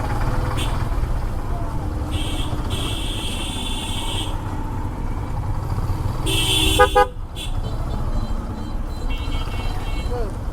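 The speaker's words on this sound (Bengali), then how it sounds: "এত জোরে হাইড্রোলিক হর্ন মারতাছি" A loud hydraulic horn on a Yamaha FZS V2 motorcycle blares in long, steady blasts and then a short stuttering burst in a traffic jam among auto-rickshaws, over a constant rumble of engines and road noise.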